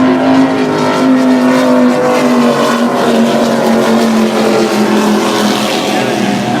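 Racing powerboats at the Key West powerboat races roar continuously and loudly, their engines holding a steady droning tone with slight pitch shifts as the boats accelerate.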